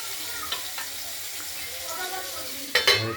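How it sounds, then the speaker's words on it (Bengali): Catla fish pieces frying in oil in a pan, a steady close sizzle with a few light utensil clinks and a sharper burst of spatter near the end; no speech. "মাছগুলো ভাজা বসেছি ভাজা হোক তারপর দেখাচ্ছি"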